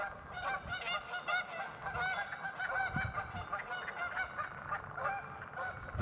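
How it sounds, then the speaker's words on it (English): Canada geese honk repeatedly in a rapid, overlapping series while squabbling over territory outdoors, loud and close with a steady noisy background. "Oh, some Canadian geese are fighting. They do that. They're very territorial."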